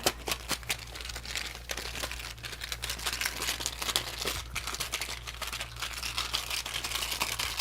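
A deck of cards for the Arkham Horror card game being shuffled up close, with a steady crisp riffling and flicking patter over a low background hum, and no talking.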